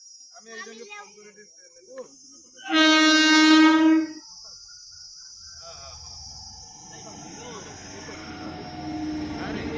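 A train horn blares loudly for about a second, followed by the rumble of a crowded train rolling into a station as voices talk nearby.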